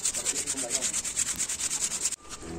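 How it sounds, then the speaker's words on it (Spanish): Steady back-and-forth rubbing of 120-grit sandpaper on a painted truck body panel during restoration, a rhythmic scratchy rasp of repeated strokes that stops abruptly near the end. "Estamos lijando con una lija 120 para que quede pues suave"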